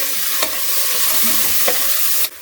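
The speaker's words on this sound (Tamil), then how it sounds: "இந்த வெங்காயம் நல்லா வதங்கட்டும்" Onions sizzle steadily in hot oil for a Tamil vegetable kurma, a close, continuous frying hiss with a couple of faint stirring clicks.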